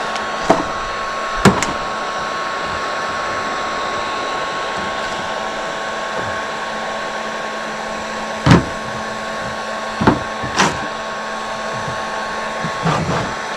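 A heat gun blows a steady, fairly loud hum while warming a roughly half-inch pipe so it can be bent, with a few sharp knocks and taps from handling scattered over the constant airflow.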